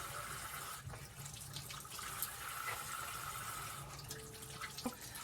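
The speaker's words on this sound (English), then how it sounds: "Wash off our eggs." Eggs are washed under a running kitchen tap, a steady close hiss of flowing water into a sink with small splashes and drips as they are turned in the stream.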